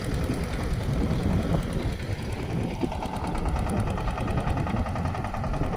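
A tractor engine runs steadily on a farm, a loud, continuous mechanical drone with a rattling, knocking texture that holds without a break.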